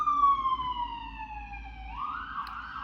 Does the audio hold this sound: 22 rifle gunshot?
no